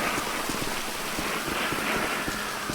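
Rain in a video game roleplay falls as a steady, dense hiss of drops on surfaces, continuous and even throughout with no voices.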